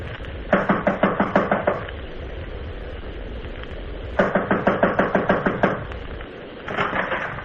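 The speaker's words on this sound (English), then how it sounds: "I'll knock." Knocking on an apartment door in a 1950s old-time radio detective drama: two sharp bursts of about eight rapid raps each, separated by a pause, loud and close.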